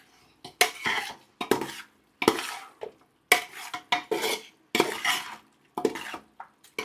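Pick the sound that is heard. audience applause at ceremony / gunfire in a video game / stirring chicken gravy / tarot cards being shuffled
stirring chicken gravy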